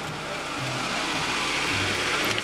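Suzuki Baleno car engine running steadily at mid pitch, a continuous close engine drone with slight rises like light revving, no talk over it.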